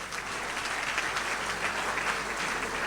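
A crowd claps steadily for a newly named school headmaster at an official ceremony, dense and even applause that holds for a few seconds with no voices over it.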